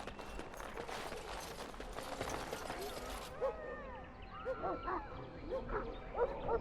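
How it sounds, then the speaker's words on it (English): A dog in Dragon Age: Origins barks and yips at a distance amid a busy background din, with the barking growing clearer and more isolated in the later part. "You can hear your dog and Nan screaming for here."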